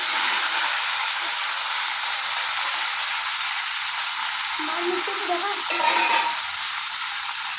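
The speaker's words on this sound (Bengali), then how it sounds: "যেভাবে আমি আলু পটলটা ভেজে নিয়েছি এভাবে আমি ফুলকপিটাও ভেজে নেব" Cauliflower florets sizzling steadily in hot oil in a pan, a continuous close frying hiss throughout with faint stirring clatter midway.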